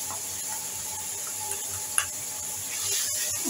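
Sliced onions cook with green and dry spices in a pan, a soft continuous sizzle with occasional light scrapes and taps of a spoon against the pan, fairly quiet and close, no one talking.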